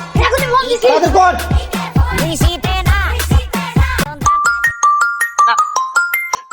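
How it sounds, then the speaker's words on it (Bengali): Animated talking fills the first few seconds, then a phone ringtone takes over, repeating a bright, beeping melodic pattern clearly and alone to the end. "এই টাইমে কে আবার ফোন দিল?"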